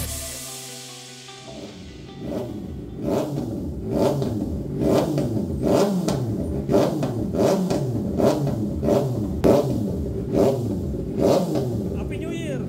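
A 2024 Kawasaki ZX-6R fitted with an Akrapovic side-mount exhaust is revved repeatedly, giving sharp, loud throttle blips over a rumbling idle at a steady, rapid rhythm, close by.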